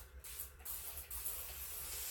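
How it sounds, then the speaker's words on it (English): A spray bottle of aloe vera juice mists a section of curly hair in several quick, close, hissing bursts separated by short gaps. "so I'm gonna spray this"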